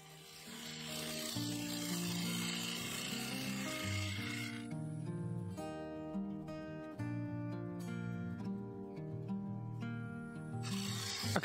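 A bowl gouge cuts into a sequoia bowl spinning on a wood lathe, giving a steady, continuous scraping rasp with shifting tonal hum from the turning blank, close and loud throughout.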